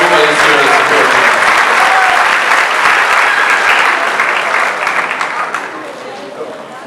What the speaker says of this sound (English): give a big round of applause to your parents, your aunts, your uncles, your cousins, your brothers, your sisters, everybody that's here to support you